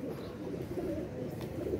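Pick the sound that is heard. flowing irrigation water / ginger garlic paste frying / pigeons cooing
pigeons cooing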